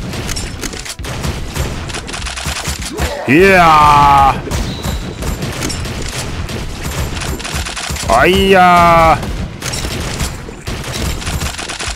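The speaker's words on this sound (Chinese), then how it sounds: "再给我开枪啊你" Bursts of rapid automatic gunfire rattle through the video game BigDay, loud and near, while someone shouts and exclaims excitedly over the shooting, with two sustained rising electronic tones cutting in between.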